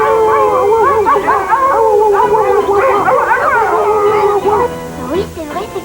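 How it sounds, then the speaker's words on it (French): A pack of dogs in a cartoon forest scene howls loudly together, long rising and falling wails overlapping for several seconds before tapering into short yips and whimpers. "Il emmène la meute de chiens en dehors de la forêt"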